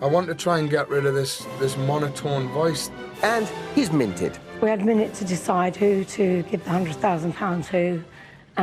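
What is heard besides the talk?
No everyday noise stands out behind the speech.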